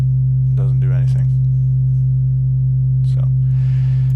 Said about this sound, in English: So this perfect sine wave has no harmonic content.